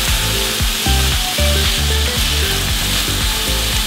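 Onions fry in hot oil for a tomato omelette, a loud close sizzle with rhythmic scraping and stirring of a utensil against the pan, steady throughout with no talking.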